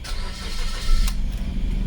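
A Suzuki Swift car engine cranks and catches, a short loud starter whir giving way to a running engine close by, with no talk over it.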